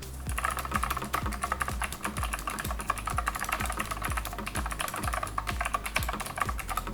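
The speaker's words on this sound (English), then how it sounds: "The keyboard is extremely noisy." Fast, rapid typing on a noisy Acer Predator gaming keyboard, loud clicky keystrokes in a dense, uneven rhythm with no talking.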